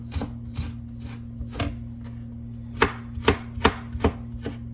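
A knife chopping a yellow onion on a cutting board, a handful of distinct close thuds spaced irregularly, growing louder and quicker toward the end over a steady low hum.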